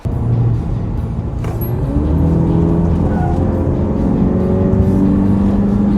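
Audi TT roadster driven fast into a corner at around 80 km/h, engine note steady and loud with tonal harmonics rising as it holds speed, continuous and close, with no talk.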